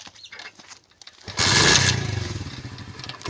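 A motorcycle engine starts up in a village courtyard in rural Punjab, Pakistan, catching with a sudden loud burst and then settling into a steady, close, rattling idle.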